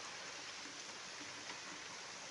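Steady heavy rain pouring down and trickling off a wall in drops during an Indian monsoon downpour, a dense even hiss with no break, fairly quiet and close.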